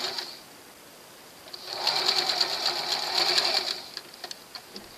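A sewing machine stitches a T-shirt in a fast rattling burst of about two seconds, nearby, framed by quieter clicks and handling before and after.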